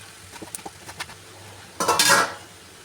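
A spoon scrapes and clinks against a pan as cooked rice is stirred into steamed vegetables for a quick veg pulav, with soft taps followed by a louder, rougher scraping burst near the end.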